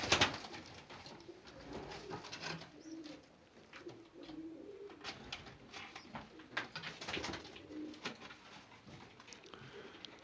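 Young racing pigeons coo softly inside a loft, low murmuring calls repeating over faint rustling and scattered taps, fairly quiet and close.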